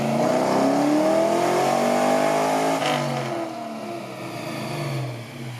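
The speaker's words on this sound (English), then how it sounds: "But this is just second gear with the converter unlocked." A 1963 Chevy Nova wagon with an LS engine swap revs hard in second gear with the torque converter unlocked, a loud, close engine note climbing in pitch for several seconds before easing off and rising again.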